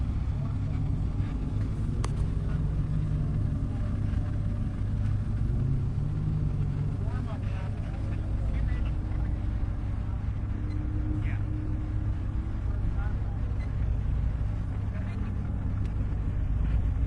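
Race cars run on a motorsports track as a session ends at the checkered flag, heard as a distant, continuous engine rumble and drone with occasional faint passes and a commentator talking over it.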